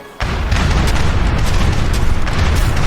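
Ship cannons fire in a naval battle scene from Age of Empires 3, a sudden loud boom followed by sustained heavy rumbling blasts and crackling bursts that keep rolling for several seconds.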